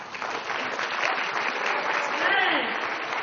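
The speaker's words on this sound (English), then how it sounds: "Give yourself a round of applause." At a closing ceremony of the International Biology Olympiad in Brisbane, a crowd of students applauds themselves with steady dense clapping, with whoops and a shout rising through it.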